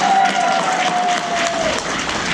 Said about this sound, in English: Can we get some snaps and or claps for my water babies?